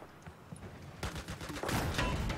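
M320 grenade launcher fire in Battlefield 4 game combat, a burst of loud overlapping blasts and crackling gunfire that builds and stays dense through the end.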